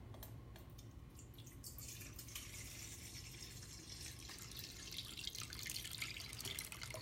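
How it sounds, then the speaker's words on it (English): Water pours steadily from a tap into a big bowl, a continuous close splashing rush that grows slightly louder and brighter as the bowl fills, with no talking. "we're going to fill the bowl about halfway"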